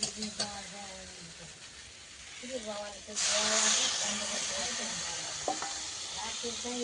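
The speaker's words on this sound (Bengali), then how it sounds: "কষানো হয়ে গেছে জল দিয়ে দেবো" Water is poured into a hot pan of sautéed curry and erupts into a sudden loud hiss and sizzle partway through. It then settles into steady bubbling. Before the pour, stirring can be heard and someone talks over the cooking.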